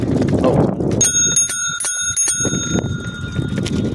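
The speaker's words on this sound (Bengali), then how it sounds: "তো বেল মেরে দিচ্ছি" A bicycle bell rings in a few quick bright trills over a busy outdoor background of rustling and movement, with no voices speaking.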